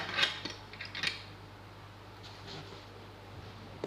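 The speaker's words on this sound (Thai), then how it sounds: "ขออนุญาต เอาช้อน ออกนะคะ" A metal spoon clinks and scrapes against a dish as it is taken out during a Thai home meal, with a few short bright taps near the start and quieter faint handling afterward over a low steady hum.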